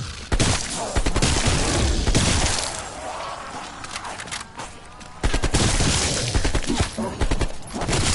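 Loud, rapid gunshots ring out in solo play on the Call of Duty Zombies map Mauer Der Toten, in dense volleys that pause briefly midway before resuming with sharp, close bursts.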